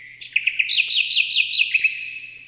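A nightingale sings a bright, rapid warbling trill, clear and close, with quick repeated rising and falling notes and no other sound around it.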